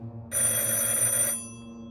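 A telephone bell rings in one continuous, bright metallic trill lasting about a second over a low ambient hum, fairly close and clear, with no talking.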